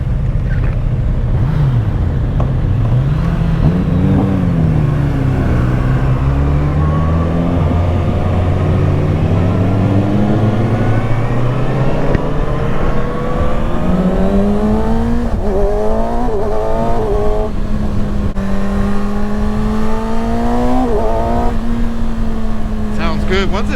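A 2021 Kawasaki Ninja ZX-6R 600cc sportbike engine and exhaust under way, a loud continuous drone whose pitch sweeps up and down through the gears, with wind noise throughout and a voice talking over it.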